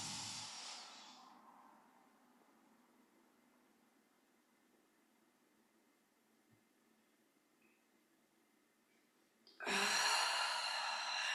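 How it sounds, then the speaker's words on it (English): Deep, slow breathing during a guided relaxation exercise: a breathy exhale fades at the start, a long quiet hold follows, then a loud rushing inhale near the end, close and alone without talk. "Deep breath in."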